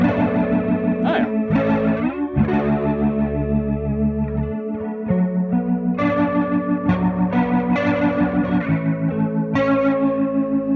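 Electric guitar through a ToneX rotary effect: chords and melodic phrases with a swirling, warbling modulation, moderately distorted and loud, played alone.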